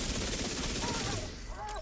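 Rapid gunfire in the video game The Division 2, a dense burst of shots that fills the first second and a quarter and then tapers into a fainter tail, loud and close.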